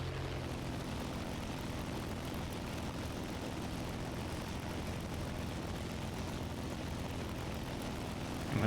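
A bomber plane's engines drone in the War Thunder video game, a steady, low, continuous roar under cloud cover that holds evenly throughout with no talking.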